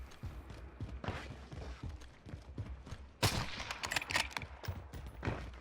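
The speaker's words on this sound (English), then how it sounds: "He's just aiming in a direction and shooting." Gunfire rings out in Call of Duty Warzone, with a run of sharp, fairly quiet shots in uneven bursts and one louder volley partway through.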